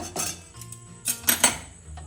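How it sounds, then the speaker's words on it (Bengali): A karahi wok set down on a gas stove, a few close metallic clanks and scrapes with short ringing tones, separated by brief pauses. "ওই জন্য আমি গ্যাসটা অন করে দিলাম, কড়াইটা বসিয়ে দিলাম।"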